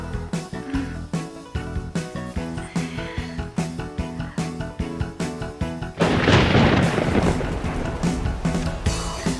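A thunderstorm breaks after a rhythmic musical passage, with a sudden loud crash of thunder followed by a sustained dense roar of heavy rain.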